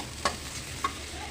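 Chopped onion fried and stirred in a pan, a soft continuous sizzle broken by two quick utensil clinks.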